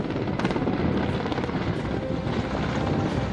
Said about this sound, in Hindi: यहाँ वायुसेना के Mi-17 V5 हेलीकॉप्टर के जरिए भीमताल से पानी लेकर जंगलों में लगी इस आग पर बौछार की गई